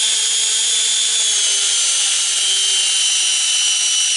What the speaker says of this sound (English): I've chucked the screw into my drill,